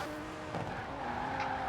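A heavily modified Mercedes-AMG E63 S Brabus 800 skids in Forza Horizon 4, with steady engine drone and faint tyre squeal under continuous game noise, moderately quiet.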